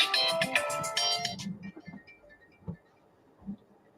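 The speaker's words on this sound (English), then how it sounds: "That was my cell phone." Cell phone ringtone plays a bright repeating melody loud and close for about a second and a half, then cuts off into quiet room noise with a few faint thumps.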